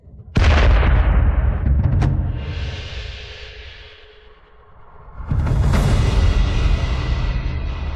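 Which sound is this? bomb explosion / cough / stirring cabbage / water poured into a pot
bomb explosion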